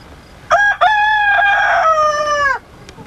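A rooster on a tobacco farm gives one full crow, a loud, close, drawn-out cock-a-doodle-doo with a brief break near the start, standing alone without talk.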